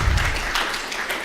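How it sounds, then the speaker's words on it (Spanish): Brief applause from an audience at a geotechnical engineering event in Mexico, a short burst of clapping that fades within about a second. "Un aplauso."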